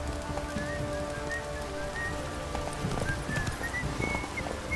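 Roach's hooves clip-clop steadily in The Witcher 3, a rhythmic trotting beat close by, mixed with rain-like patter and a soft whinny-like tone over the background.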